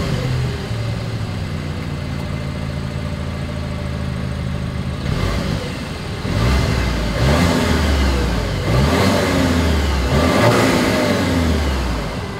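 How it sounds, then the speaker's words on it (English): A 2024 Volkswagen Atlas Cross Sport engine idles with a low rumble, then revs several times in rising and falling bursts through the dual exhaust, loud and close, with no talking. "As always, here is that exhaust clip."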